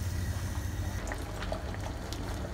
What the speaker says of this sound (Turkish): Evet, birazcık daha sulandı. Fokurduyor.